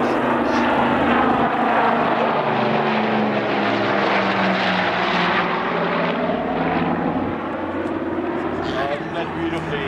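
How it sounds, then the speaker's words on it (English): Douglas DC-4 four-engine propeller airliner flying past at an air display, with a loud, steady, throbbing piston-engine drone that shifts in pitch as it moves, with a commentator talking over it. "the aircraft Skyclass DC-4"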